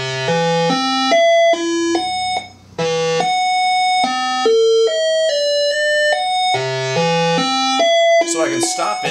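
Yamaha CS-5 monophonic synthesizer driven by a 16-step analog step sequencer, playing a looping sequence of short harmonic-rich notes that hop between pitches at a steady rhythm, loud and alone with no talk.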